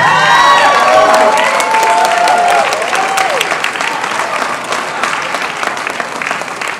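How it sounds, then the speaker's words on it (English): Rally crowd of union supporters and retirees at a state capitol applauds and cheers loudly and steadily, with whoops and voices over dense clapping that gradually thins. "How about a round of applause for our kupuna over here?"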